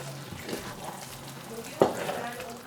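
A spoon stirs cooked meat into rice in a pan over lowered gas, with soft scraping and a gentle sizzle and one sharper scrape or knock near the end, fairly quiet.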